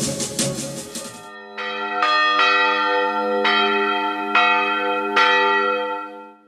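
A church bell rings out in slow, resonant strikes, about five clear tolls with long ringing decay, preceded by a brief noisy passage.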